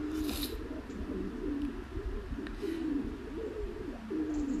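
Pigeons coo during mating just after a pair has been put together, low rolling coos repeating steadily and close by, with a few faint higher chirps over them.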